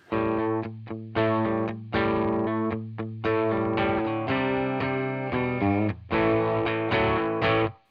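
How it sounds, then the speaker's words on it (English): An electric guitar played through a real tube amp with the guitar volume rolled down to 3, giving mild overdrive. It plays a series of strummed chords and riffs with a steady rhythm, loud and alone. "let's see what happens when we go all the way down to the real amp with the guitar volume on 3"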